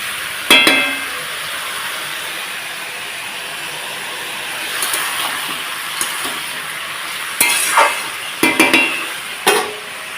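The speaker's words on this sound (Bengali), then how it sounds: "ফোড়নে দিয়েছি শুকনো লঙ্কা গোটা তেজপাতা জিরে ভালোভাবে নাড়াচাড়া করে নিচ্ছি" Dry red chillies, bay leaf and cumin spitting in hot oil with a steady sizzle, while a spatula stirs and scrapes the pan in a few sharp, close clatters.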